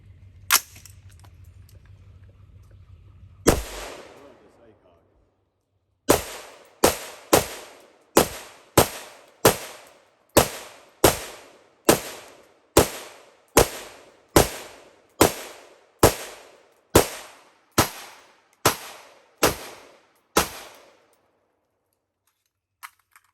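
A Colt M4A1 SOCOM Block 1 rifle fires from a 20-round magazine, with about eighteen sharp, loud shots at a steady, deliberate pace, each with a short echoing decay, after a brief stretch of low rumble.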